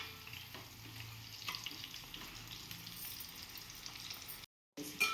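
A Telugu-style curry fries quietly in a pan, a soft, low sizzle with occasional stirring scrapes, briefly cutting out to silence near the end before resuming.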